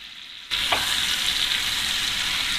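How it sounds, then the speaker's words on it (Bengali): Seven boiled eggs coated in chili powder hit hot oil in a pan and start sizzling, a sudden burst of steady frying that holds loud and even. "এখন এই ডিম 7টাকে আমি হালকা করে ভেজে নিব"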